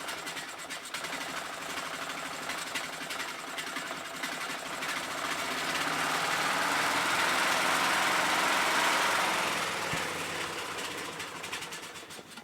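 Small single-cylinder engine of a Troy-Bilt Super Bronco 17.5 HP lawn tractor running with the choke partly closed, a close, busy buzzing drone that swells in the middle and eases off toward the end, with no voices.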